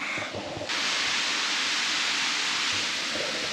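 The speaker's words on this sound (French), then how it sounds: "Il y a aussi une cascade à l'intérieur de la cuve." Waterfall inside a cave in Colombia: a steady, loud broadband rush of falling water that swells in after a brief quieter moment and holds constant, close and enveloping, with no voices.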